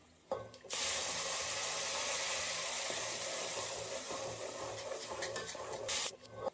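Scraping and rubbing in a pan while a veg omelette cooks: a steady, close, coarse grating sound running almost without a break for about five seconds, with no talking.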